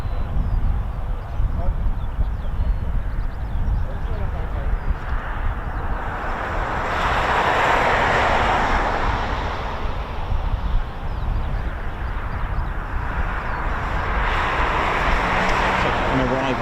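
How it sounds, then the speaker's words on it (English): A Boeing KC-135 tanker aircraft arrives at RAF Mildenhall with a loud, continuous jet roar that swells and fades over a heavy low rumble, with wind-like broadband noise and no clear voices. "Arrival of the KC-135 as well, which is cool"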